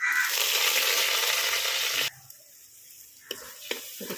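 Ground masala paste sautéing in hot oil in a pan for a Tamil tuna fish fry, a loud hissing sizzle for about two seconds, then quiet with a few faint clinks.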